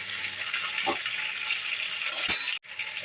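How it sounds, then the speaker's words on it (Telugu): Stuffed brinjals sizzle and crackle in hot oil in a pan, a steady bright frying hiss with a couple of knocks from stirring and a brief dip near the end. "ఆయిల్ వేడైన తర్వాత ముందుగా నింపి పెట్టుకున్న వంకాయలను ఇందులో వేసుకోవాలి"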